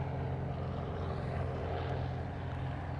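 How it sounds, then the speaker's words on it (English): A Southwest airliner takes off from the reef runway, bound for San Diego, as a steady, distant jet roar that holds at an even level throughout, with no voices. "the next one going out to Southwest on the reef runway,"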